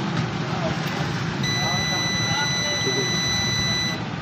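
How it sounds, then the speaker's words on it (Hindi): A UPS unit (Homage Axiom 1202) under repair, with its fan grip removed, emits a steady high-pitched electronic buzzer tone that starts partway through and holds, under a man's speech and a noisy hum. "इसलिए ये फ़ौरन उसके बाद इसने बज़र देना शुरू कर दिया"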